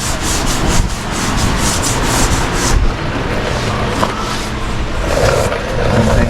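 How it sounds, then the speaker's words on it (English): Hand sanding on a 1959 Impala convertible's body near the door jamb after glazing, a loud continuous rasping scrub with rhythmic back-and-forth strokes close to the microphone. "Sanding that right now."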